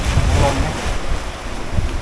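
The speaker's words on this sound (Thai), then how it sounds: "ลมเยอะ" Strong wind blows across the sea at Koh Kham island, Sattahip, in the rainy season after a storm, roaring loudly and continuously into the microphone over the rumble of waves.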